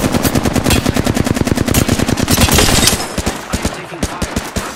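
Rapid machine gun bursts in a shooter video game, loud and close, with fast evenly spaced shots rattling for about three seconds before thinning into scattered single shots.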